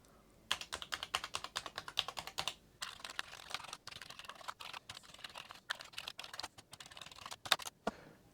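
Rapid, uneven key clatter from an Amiga 500 keyboard being tested key by key, close and crisp, with dense bursts of presses and a few brief pauses across several seconds, with no voices.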